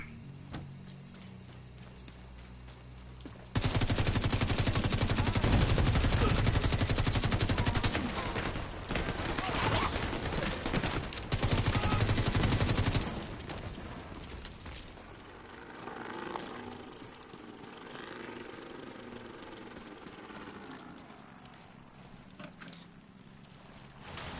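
Gunfire in The Division 2 on Roosevelt Island, a loud sustained burst of rapid automatic fire that stops, briefly resumes, then gives way to quieter game ambience with faint voices.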